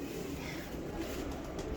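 Pigeons of the Sualkoti breed in a loft coo steadily and softly under a dense, continuous background murmur.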